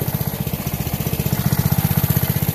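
The small engine of a DIY sewer jetting kit idles while it warms up, a loud, close, steady throbbing putter with a fast, even pulse and no voices over it.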